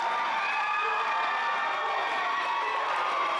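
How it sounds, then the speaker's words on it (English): Crowd at an indoor independent wrestling show cheering loudly and steadily, a dense roar of voices with shouts and whoops throughout. "and the crowd loves him."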